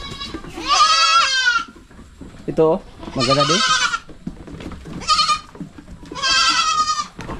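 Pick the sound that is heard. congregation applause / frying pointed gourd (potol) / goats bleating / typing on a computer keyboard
goats bleating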